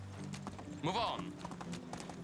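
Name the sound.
horse hooves trotting in video game Medieval Dynasty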